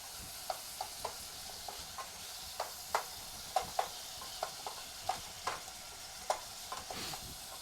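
Food sizzles and fries in a hot pan while browning, with steady crackle and scattered sharp pops and stirring clicks throughout, fairly quiet and with no voices.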